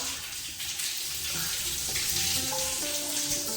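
Water runs steadily through a waterfall-style urinal in a restroom at the Madonna Inn in San Luis Obispo, California, a continuous splashing rush with a faint hiss over a few seconds, close and fairly loud with no talking.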